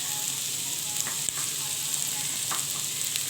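Turmeric and salt sizzle in a hot pan while a utensil stirs them, giving a soft continuous hiss broken by a few light scraping strokes, close and moderately quiet.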